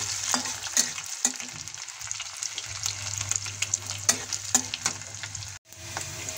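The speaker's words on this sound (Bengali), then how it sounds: "ফোড়ন দিয়ে দিচ্ছি, তেল গরম হয়ে গেছে।" Dry red chilli, cumin seeds and bay leaf tempering crackle and sizzle steadily in hot oil, close up, with scattered sharp pops and spatters over a continuous frying hiss, no voices.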